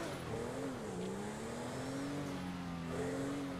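A Volkswagen Fusca (Beetle) drives in GTA V, its engine holding a steady droning hum with slight pitch rises, continuous and moderately loud without pauses.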